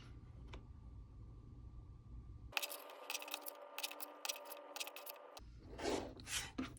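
Scissors or a rotary cutter slicing green quilting fabric into small squares, a few close, sharp snips and rasping cuts over a quiet room, with soft handling rustles around them.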